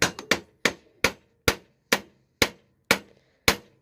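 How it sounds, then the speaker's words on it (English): Hammer striking an FMF exhaust pipe on a Honda 300EX ATV, nine sharp metallic blows at a steady, slightly quickening pace of about two per second, close and loud with nothing else heard. "My hammer here."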